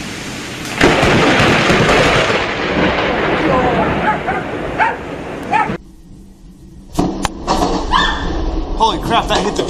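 A lightning strike hits a tree during a thunderstorm, bringing a loud, close crack and rolling roar of thunder over heavy rain, then a brief lull before rain and crackling noise return, with voices and a dog barking mixed in.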